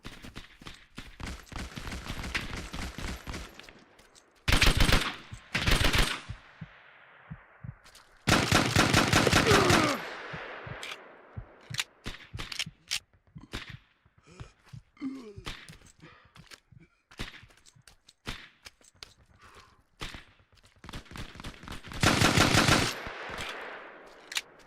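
Machine-gun bursts and rifle shots crackle through a Hell Let Loose WW2 battle game, loud rapid volleys at intervals with scattered single shots and quieter stretches between, plus a few gasps.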